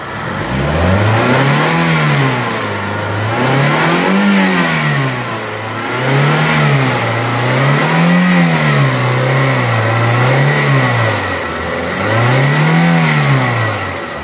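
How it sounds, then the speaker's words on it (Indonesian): A car engine with a weak battery, after a jump start, revs up and down repeatedly in a steady rising-and-falling cycle, loud and close, with no voices. "Sekarang saya mau ngegas mobil ini."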